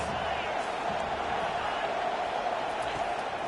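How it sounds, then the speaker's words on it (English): Dense, steady roar of a large football stadium crowd, loud and continuous throughout with no distinct voices standing out. "This crowd trying to make life miserable for this offense."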